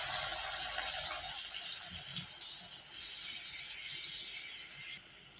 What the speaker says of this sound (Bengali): এদিকে আমার ডিমটা কষানো হয়ে গেছে তাই আমি দুধটা ঢেলে দিচ্ছি।